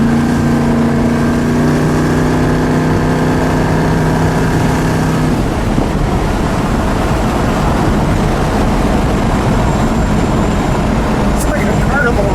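A 1970 Dodge Challenger T/A 340 Six Pak drives along, its engine a loud, steady roar under wind rumble, with a low droning note that fades after a few seconds while the ride continues.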